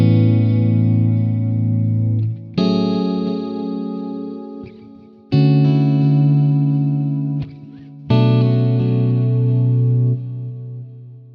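An electric guitar runs through a CorOS chorus pedal with pitch modulation turned all the way up. Four sustained chords are strummed one after another and shimmer with deep, wobbling modulation, loud and alone.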